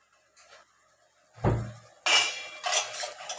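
A metal lid clanks down onto a pot of boiling potatoes and bitter gourd, a sharp clatter followed by further rattling kitchenware clinks, close and fairly loud.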